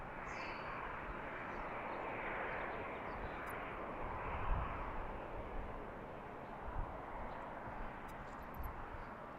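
An airliner arriving on runway 28 at BWI airport, a distant, broad engine roar that holds steady and swells slightly midway, with faint chirps of birds above it.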